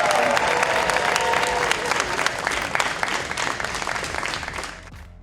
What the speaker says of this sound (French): on applaudit Chloé Touga, on l'applaudit.